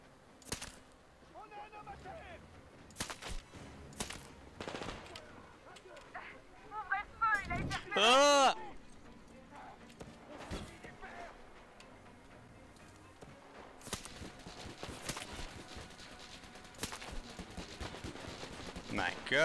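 Gunfire in the video game Metro Exodus: scattered sharp shots and short bursts pop intermittently at moderate volume, among other game sounds, while a person talks now and then.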